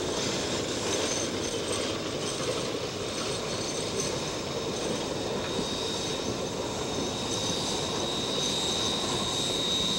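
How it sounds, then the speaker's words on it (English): Heisler geared steam locomotive number 6 on the Cass Scenic Railroad, working during a fall photo special: a continuous broad rumbling roar with faint rapid chuffing, steady and fairly loud throughout. "Locomotive number 6 there is the Heisler"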